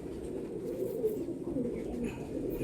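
Several golden-eyed pigeons give soft, throaty cooing calls nearby, a steady overlapping low warble with no pauses.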